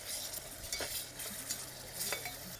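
Finely chopped onion and medium tomatoes sizzle in a pan as a spoon stirs them for Punjabi sarson ka saag, with steady close frying and scraping strokes.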